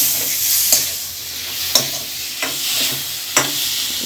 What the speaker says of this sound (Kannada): ಜಸ್ಟ್ ಇವಾಗ ಇದನ್ನು ಫ್ರೈ ಮಾಡ್ಕೊಳ್ಬೇಕು ಅಷ್ಟೇ ನಾವು